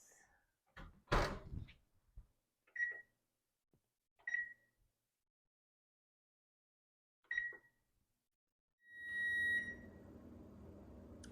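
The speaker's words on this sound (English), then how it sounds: "the timer just went off" A kitchen oven timer sounds during a batch of homemade pumpkin dog treats baking at 350 degrees, three short beeps then a longer one ringing out alone amid quiet clatter, followed by an extractor fan hum.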